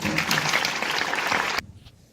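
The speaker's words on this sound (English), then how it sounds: "Can we give Kate and David a hand clap for their awesome time" Audience hand clapping at an event about the life and death of Sandra Bland; dense, fairly loud applause from a crowd, sustained for about one and a half seconds before cutting off abruptly into a quiet room tail.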